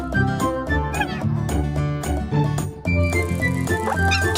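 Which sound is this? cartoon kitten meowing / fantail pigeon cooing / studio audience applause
cartoon kitten meowing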